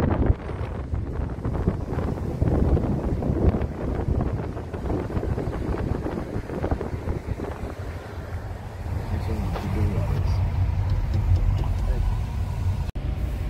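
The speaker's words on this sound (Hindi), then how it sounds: "फेरी जो है ना वो चल पड़ी है, ये आप देख सकते हैं पानी में" A car ferry crossing a river rumbles along with a steady low engine drone and water wash, wind buffeting the microphone, while people talk from inside a car parked aboard.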